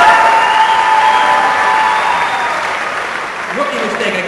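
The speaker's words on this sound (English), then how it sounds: "Please join me in giving Scott another special round of applause for his contributions to Cornell." Audience at a Cornell University evening celebration applauds and cheers a man being honored, a dense steady roar of clapping with shouts mixed in, fading slightly toward the end as voices emerge.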